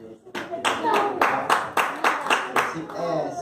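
Rhythmic, steady clapping in a church during a children's fasting service, about eight or nine sharp claps in even time, close and lively, with voices faintly mixed underneath.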